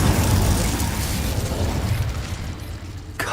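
Incendio fire spell in Hogwarts Legacy, a loud booming blast with a rumbling roar that slowly fades, followed by a sharp impact near the end.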